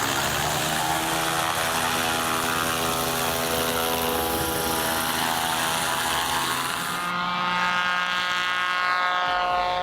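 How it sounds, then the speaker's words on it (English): A small homemade airplane built by a boy drones steadily on a makeshift runway for takeoff. Its propeller engine gives a loud, continuous buzzing hum that holds throughout. "the kid closes the cockpit and prepares for takeoff"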